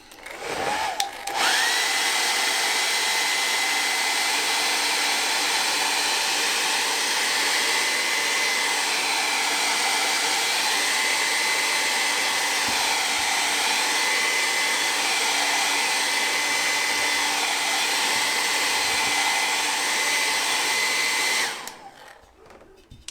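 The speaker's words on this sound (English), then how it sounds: "Let me just blow dry it real quick." A hair dryer blows over a freshly painted ceramic Christmas tree, giving a loud, steady whirring whine for about twenty seconds before it switches off.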